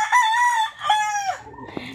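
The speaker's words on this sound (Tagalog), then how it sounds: "Naa siya mga manok diri guys nga pang baligya ay" Rooster among hybrid chickens kept for sale on a farm crows loudly and close, one long drawn-out call breaking into a second, with a brief cluck at the end.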